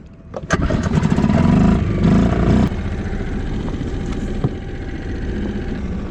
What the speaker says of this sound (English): this is when you really want the outboard motor to start